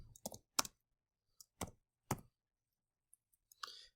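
A few separate keystrokes on a computer keyboard, tapped out one at a time with pauses between them, fairly close and clear in an otherwise quiet room.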